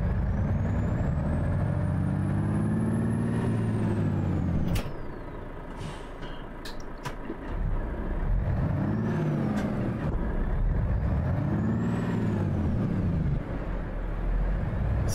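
Heavy truck engine in Euro Truck Simulator 2, a deep throaty rumble that holds steady and near, swelling in several long revving surges, with a brief hiss like an air brake partway through.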